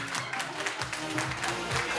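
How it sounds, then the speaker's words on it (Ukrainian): Wedding guests clapping together in a hall, a dense, fairly close burst of applause sustained throughout, with some voices mixed in. "Ваші аплодисменти"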